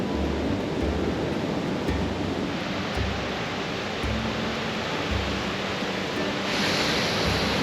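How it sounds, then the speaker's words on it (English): Waterfall at Newry, Maine rushing steadily near a bridge, a loud continuous broadband roar with some low wind buffeting and no talk. "See the start of the waterfall here."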